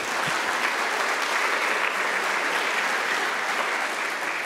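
Steady, full applause from a school audience at a sustainability education event, continuous and fairly loud for the whole stretch with no voices over it.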